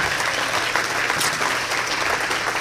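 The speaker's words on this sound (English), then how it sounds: "So round of applause to these guys." Guests at a sled dog race finish banquet give a loud, sustained round of applause to the trail breakers, a thick continuous roar of clapping with some crowd noise mixed in.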